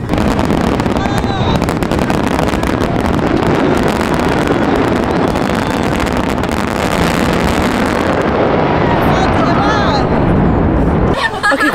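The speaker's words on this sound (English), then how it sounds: "so that was the end of the boat ride" A motorboat engine drones steadily with loud wind rushing over the microphone and water noise, while people talk faintly underneath.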